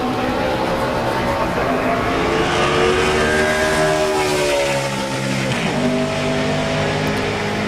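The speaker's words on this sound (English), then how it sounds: "Here's a 21 car going out to qualify" NASCAR Sprint Cup car, the No. 21, heading out on a qualifying lap at Charlotte, its engine roaring loud and steady with a rising and falling pitch as it passes, continuous throughout.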